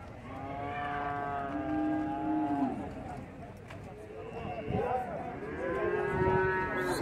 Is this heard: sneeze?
no